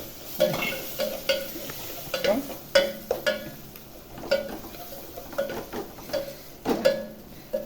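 Ground onion paste is stirred into frying masala for a fish curry, with repeated scraping and clattering of a spoon against the pan in an uneven rhythm over a soft, steady sizzle, close and moderately loud.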